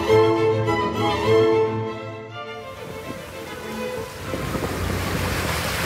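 Wind and sea waves on the open sea in neutral waters, with a swell of about 2.5 metres. A steady tonal hum gives way to rushing wind and broad wave wash, loud and continuous, with no voices.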